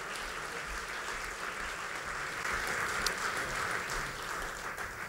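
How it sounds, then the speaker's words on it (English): Community gathering audience giving a round of applause, a fairly quiet, distant-sounding wash of clapping that swells a little in the second half and continues throughout. "If we could all give them a huge round of applause for everything that they do in our community"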